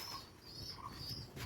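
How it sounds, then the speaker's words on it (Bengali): Pigeons of red cap and panda gold breeds flutter out of an opened coop, giving faint, soft wingbeats in a quiet, distant setting with a few low coos. "পায়রাগুলো বেরোক।"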